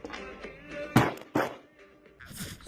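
A molotov is thrown in the video game CS:GO: a few hollow thunks and thuds in quick succession, loud and close, with faint voices around them.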